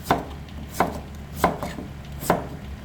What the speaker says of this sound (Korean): 탕에 들어가는 무는 넓이가 1cm입니다